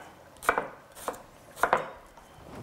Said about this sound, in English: So I'm gonna just finish cutting this up real quick.